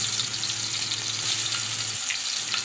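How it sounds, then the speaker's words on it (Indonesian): Ground spice paste sautés in oil in a wok, giving a dense, steady sizzle that hisses loudly and evenly throughout without any voices. "tumis semua bumbu yang telah dihaluskan"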